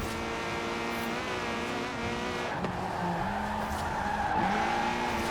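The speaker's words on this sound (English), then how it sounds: "So we got a front-wheel drive Ford Fiesta ST still in A class here." A front-wheel-drive Ford Fiesta ST races in Forza Horizon 4, its engine droning steadily at high revs with shifting pitch as the tires squeal through corners, loud and continuous.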